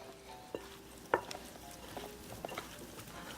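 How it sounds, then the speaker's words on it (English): Masala spices being mixed by hand into raw chicken drumsticks, soft faint squelching and rubbing with a few sharper taps, close and quiet, no speech. "All the masala going to get blended in and will taste better. And now I'm going to bring all the spices. We're going to mix it well."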